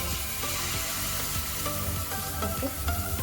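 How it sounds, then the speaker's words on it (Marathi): Water hisses and sizzles steadily on a very hot iron tawa griddle being readied for ragi sponge dosa batter, a close, continuous crackling fry sound with no talking. "थोडं जरी पाणी टाकलं तरी खूप वाचतो आहे एवढा गरम झालेला आहे"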